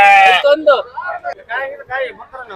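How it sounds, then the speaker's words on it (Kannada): A sheep bleats loudly close by at the Thursday sheep market in Chitradurga, followed by more wavering bleats mixed with nearby voices. "ಕುರಿ"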